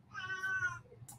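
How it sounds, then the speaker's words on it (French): A house cat lets out a single drawn-out meow, faint and in the background, followed by a short soft rustle. "il y a le chat en arrière"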